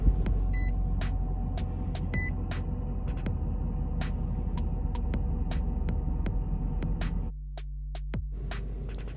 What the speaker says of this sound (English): So we just take the key with our hand, press it to it right here, and the vehicle starts.